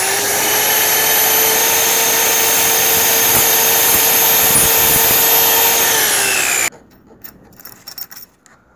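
Miter saw fitted with an aluminium-cutting blade slicing through a 5mm metal tube, a loud, steady high-pitched whining cut lasting several seconds, then the motor cutting off into quieter knocks and handling noises.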